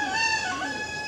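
Chickens from many breeds at a poultry conservatory in the Landes, with a rooster crowing and fowl clucking together in a steady, close chorus.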